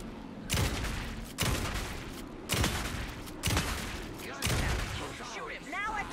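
Bursts of gunfire from the Alan Wake 2 video game, five loud volleys spaced about a second apart, with some speech-like sound in between.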